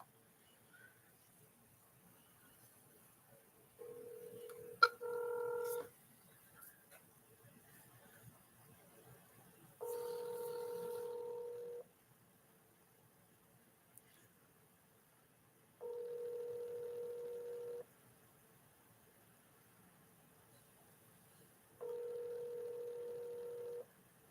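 A phone call rings out unanswered: four evenly spaced ringback tones, each about two seconds long with roughly four-second gaps, soft and clean with no voices.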